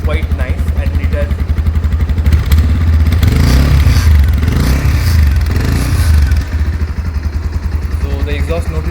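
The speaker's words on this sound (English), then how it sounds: "there is a grungy feeling to the exhaust note" A loud Avenger motorcycle exhaust idles close by with a grungy, rhythmic thump, swelling into a revving burst midway before dropping back to a steady idle.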